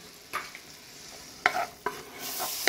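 Garlic and tomato are stirred in a frying pan, with a faint sizzle underneath and about four sharp scraping stirs spaced across a short quiet stretch.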